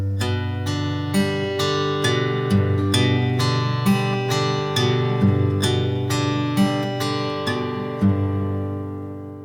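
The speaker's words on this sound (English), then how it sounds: "we're going to use our right hand so that we can practice some fingerstyle" Fingerstyle guitar picking in a thumb, index, middle, ring, middle, index pattern: a steady run of plucked notes over sustained bass tones, clear and close, with no talking.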